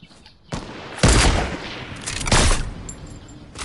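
Rapid bursts of video game gunfire crack and roar in two heavy volleys, loud and dense with brief gaps between, no talking over them.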